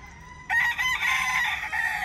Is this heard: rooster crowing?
yes